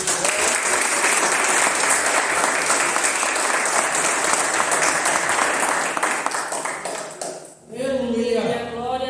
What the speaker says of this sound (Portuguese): glorifique o Senhor com as palmas